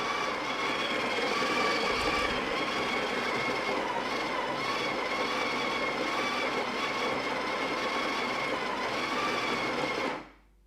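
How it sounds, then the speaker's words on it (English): A Sage Barista Touch Impress espresso machine grinds coffee beans with a loud, steady, high-pitched whirring buzz that runs continuously for about ten seconds and then cuts off abruptly. "Now, next step is to grind the coffee."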